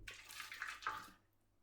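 Hot water freshly boiled in a kettle is poured into a tray, a short close gurgling pour lasting about a second that then cuts off, quiet and with no voices.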